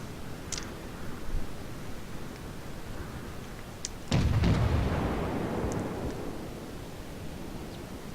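A heavy naval gun salvo in World of Warships lands with a sudden loud boom, then a long rumbling roar that slowly fades over several seconds, after a few faint distant cracks.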